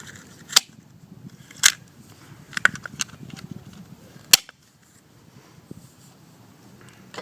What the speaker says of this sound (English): I'm going to get some tin snips. I'm going to cut the really crap end off.